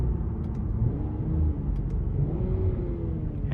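A 2020 Infiniti Q60 Red Sport 400 on the road, its engine giving a deep, steady rumble that rises slightly as it pulls, heard from inside the cabin with no talking.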